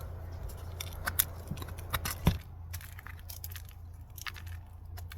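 A knife spine scrapes tie wood into fine tinder with short, crisp scratching strokes and a few sharp clicks, close up over a low steady background hum, with no talking.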